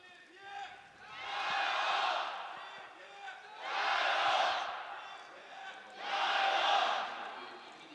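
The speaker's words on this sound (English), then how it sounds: "I hope you can hear, the crowd getting behind EP" An arena crowd at an esports grand final cheers in three swelling waves, each rising to a loud roar and fading back to a low murmur; faint talk sits underneath between surges.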